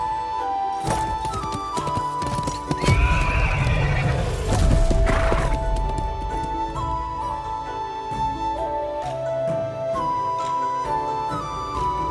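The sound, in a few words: horse neighing and hooves, from a video game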